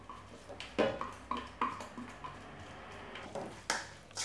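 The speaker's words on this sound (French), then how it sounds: "Vous mélangez le tout." Salmon tartare being mixed with capers, seaweed and shallot, a few soft, scattered clinks and scrapes of utensil against bowl, fairly quiet and close, with no talking.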